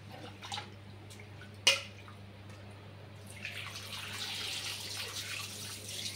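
Kodo millet and moong dal being washed by hand in a bowl of water, with soft close sloshing and trickling, a single sharp knock near the start, then a steadier swirl of water continuing to the end.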